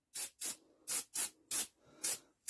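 Spray cleaner is sprayed on parts in short, sharp bursts, seven quick close hisses in an uneven rhythm, with no talking.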